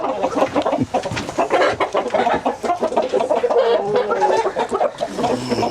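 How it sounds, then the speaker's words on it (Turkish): Indian game roosters clucking and squawking loudly and continuously, a dense flock of fowl close by with overlapping calls. "Bunların hepsi güçlü hayvanlar dediğimiz Hint horozları"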